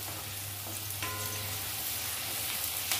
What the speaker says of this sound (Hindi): प्याज को और हरी मिर्ची को अच्छे से